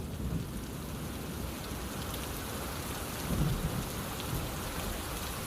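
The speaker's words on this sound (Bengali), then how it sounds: "কখন যে বৃষ্টিটা থামবে কে জানে" Steady, dense rainfall on a stormy night in a Bengali horror cartoon, with a low thunder rumble swelling briefly midway; no voices.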